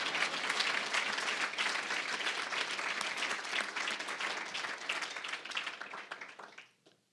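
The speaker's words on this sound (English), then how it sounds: "Oh, you can clap. It's okay." Audience applause at a college honors banquet, a dense, steady burst of many hands clapping that holds strongly and then fades away to near silence at the end.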